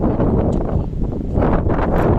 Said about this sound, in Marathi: इथे मस्त वारा सुटलाय